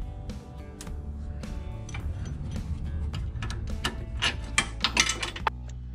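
A car jack is worked during an air bag install on a third-generation Camaro or Firebird, giving a close run of rhythmic metallic ratcheting clicks and clanks under a low engine-like hum.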